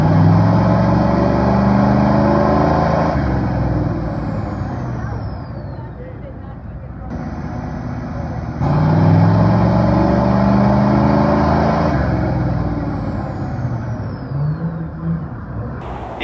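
A Ford 6.9 IDI diesel engine pulls hard on a dyno in gear, its loud, strained drone climbing steadily through each run before it drops off, eases and then winds up again.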